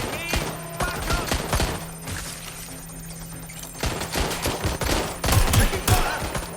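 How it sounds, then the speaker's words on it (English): Gunfire in the Watch Dogs Legion video game: bursts of rapid shots in two clusters, a lull of quieter background in between, with louder heavy volleys near the end. "Shots fired! Shots fired!"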